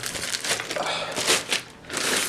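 Crinkling plastic bag handled while unboxing a Defender Oscar SM600 Pro black keyboard, close, loud rustling bursts with brief pauses between them.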